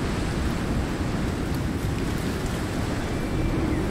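Steady broadband rush of a waterfall in the open-world survival game Icarus, set in a forest, a continuous even roar with no breaks and no talking over it.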